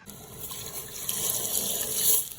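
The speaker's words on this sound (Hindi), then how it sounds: "चलो मैं अभी चाय का पानी खोल के इसके अंदर दूध वगैरह डालते हैं।" Water from a tap runs steadily into a pot for tea, a continuous hissing gush with slight swells and no voices, in a home kitchen.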